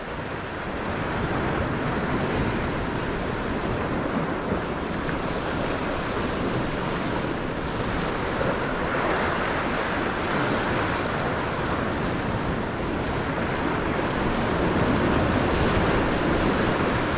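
Moving water surges against the shore at a bass fishing spot at dawn, a steady rushing wash mixed with wind buffeting the microphone, continuous and fairly loud with no voices.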